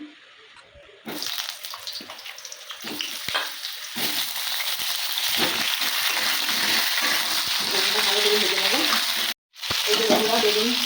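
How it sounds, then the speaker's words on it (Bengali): Potatoes and eggplant fry in hot oil, a steady close sizzle running almost throughout, with a few clinks and stirring sounds in the first seconds and a brief drop near the end. "এইভাবে বেগুনটা ভেজে নিতে হবে"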